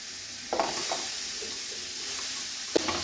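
Chopped papaya with salt being stirred in a pan, a steady soft sizzle with a few sharp scraping knocks of the spoon against the pan.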